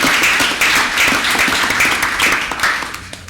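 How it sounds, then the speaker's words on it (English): An audience at a city board of aldermen meeting applauds loudly and continuously, with dense claps close at hand that taper off toward the end. "And y'all please join me in giving them a round of applause"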